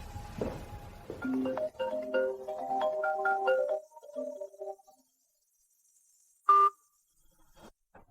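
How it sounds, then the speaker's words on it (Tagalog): A phone melody ringtone plays for a few seconds during a call, a run of close, clear tonal notes, followed by silence and a brief electronic beep. "Victor, tawagan mo ang asawa mo."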